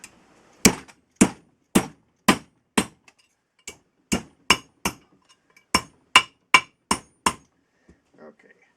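A hammer beats a 1948 Community silver-plated fork flat in about fifteen sharp metallic blows, loud and close, with a steady rhythm and a short pause partway through.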